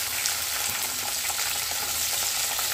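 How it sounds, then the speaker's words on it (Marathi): Fresh cashews shallow frying in a brass pan, a loud, continuous close sizzle of hot oil with faint stirring, no talking. "अगोदर काजू थोड्याशा शालो फ्राय करायच्या।"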